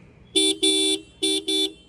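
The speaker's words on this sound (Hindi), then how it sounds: "अगर हॉर्न की आवाज़ सुने" A TVS Apache RTR 160 2V motorcycle horn beeps four times in two quick pairs, loud and close, with a bright electronic tone.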